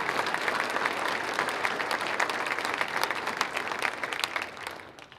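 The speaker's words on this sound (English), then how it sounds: "let's give our council a round of applause" Applause for the city council at the Coeur d'Alene State of the City address in 2019: a crowd claps steadily and densely at close range for about five seconds, then fades out.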